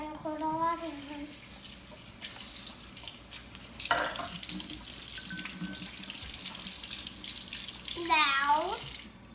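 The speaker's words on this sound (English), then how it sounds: "turn the cold water in." Cold water runs steadily from a kitchen tap in a home, a continuous rushing splash that goes on for several seconds, with a voice heard at the start and end.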